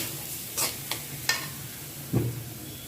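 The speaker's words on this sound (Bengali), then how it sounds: "পোলার চালটা আমার ভেজা হয়ে গেছে" Polao rice fries in a pan over low heat, a soft, quiet sizzle punctuated by three quick scraping stirs and one heavier knock, close by with no voices.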